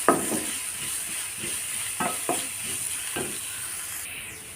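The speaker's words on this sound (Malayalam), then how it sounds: "ഇനി നന്നായിട്ടൊന്ന് വഴറ്റിയെടുക്കാം." Carrot and beetroot egg thoran sautéing in a pan, a soft steady sizzle broken by several distinct spatula scrapes, moderately close and with no voices.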